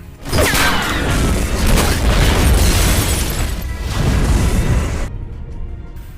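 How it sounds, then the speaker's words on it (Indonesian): A car explodes at a petrol station in an action film, a loud, roaring blast that rumbles on for several seconds with crackling debris, then cuts off abruptly. "Steve menembak genangan bensin hingga membuat mobil Bishop meledak"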